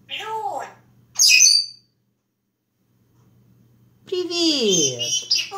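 A pet parrot gives loud, harsh squawks and screechy calls in two bursts separated by a quiet pause, recorded close up indoors.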